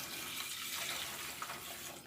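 Tap water runs steadily from a faucet into a pot for cooking, a continuous broadband rush at close range with no voices.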